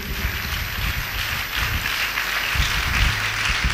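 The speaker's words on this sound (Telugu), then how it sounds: "చప్పట్లు కొట్టి దేవుడు మహిమపరచండి గట్టిగా" A church congregation claps loudly together in sustained, dense applause, a steady wash of many hands that swells slightly toward the end.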